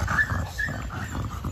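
A female pit bull puppy shut behind a gate whimpers and growls, with short high whines over a steady low rumble, close by and with no talk.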